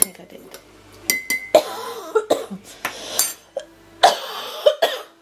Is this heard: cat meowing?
no